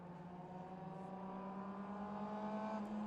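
A 1998 Star Cars Formula Mazda race car drones with a steady, fairly faint engine whine during a race at Watkins Glen, holding a constant pitch.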